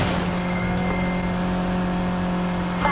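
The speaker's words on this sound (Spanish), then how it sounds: "Mira, el turbo ya está activado, el nitro con el A." A race car engine in Need For Speed Heat drones steadily and loudly with turbo and nitro engaged, holding an even, unbroken tone for the whole stretch with a brief swell at the end.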